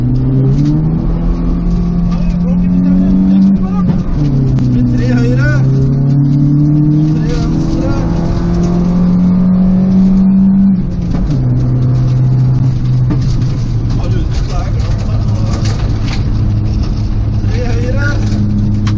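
Rally car engine at a gravel rally on Lista, held loud and close from inside the car, rising through the revs in long pulls with two gear changes, while a co-driver's voice carries on over the engine.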